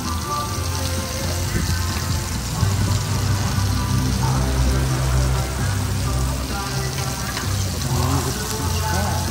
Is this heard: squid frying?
yes